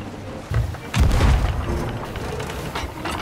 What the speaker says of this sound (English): I released a barrage of cannon fire at the opponent.